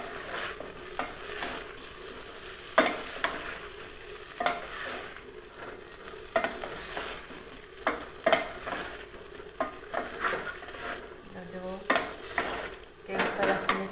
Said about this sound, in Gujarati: સારી રીતે આપણે તેને મિક્સ કરી લઈશું.